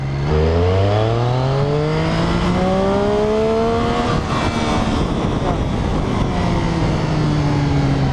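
A learner-legal naked motorcycle revving hard through first gear up to about 100, its engine note climbing steeply in pitch, dipping briefly, then surging again, loud and close with wind rush.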